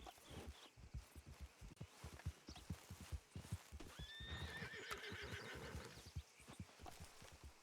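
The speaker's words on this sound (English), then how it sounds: "Oh, I hear horse." A horse in the WildRP role-play western video game clip-clops with a steady walking rhythm of hooves, then neighs in a drawn-out whinny midway, fairly close and clear with no talk over it.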